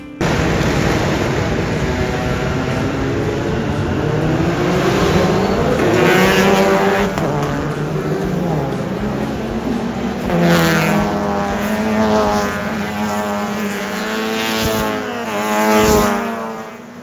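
Formula 4 race car engines drone and rev steadily for the whole stretch, loud and close, with pitch shifts as several cars idle and build up together before a formation lap.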